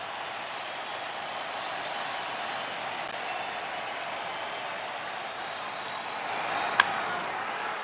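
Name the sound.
baseball stadium crowd cheering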